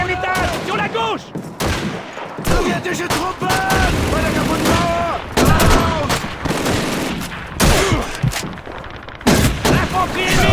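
Sustained bursts of MG42 machine gun fire in the Call of Duty II video game, loud and dense, with rattling volleys and booming explosions layered over game music; faint voices sound beneath the gunfire.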